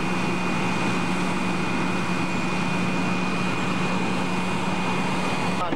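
A jet airliner's engines give a steady, loud roar with a constant high whine, unchanging for several seconds as if heard from nearby or inside the cabin.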